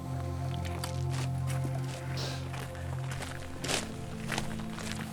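Footsteps of hikers crunching along a trail toward a summit in the snowy north, soft irregular steps fairly close, under a steady droning background with a couple of louder scuffs near the end.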